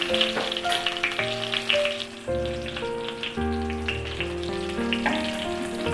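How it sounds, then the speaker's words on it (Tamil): Steady sizzling of brinjal (eggplant) frying in hot oil, a loud continuous crackle with a low hum running underneath. "பாதி குக் ஆகிற அளவுக்கு கொஞ்சம் ஃப்ரை பண்ணி எடுத்து வச்சிடணும்."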